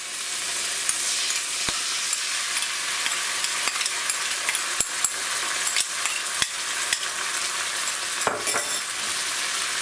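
Cauliflower fries with red chili sauce in a pan, a steady bright sizzle over low heat, while a utensil stirs it with occasional sharp scraping clicks against the pan.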